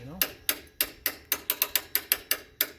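A hand crank raises the height adjustment on a homemade sawmill, giving a close, crisp series of about a dozen ratcheting clicks in a quick, slightly uneven rhythm.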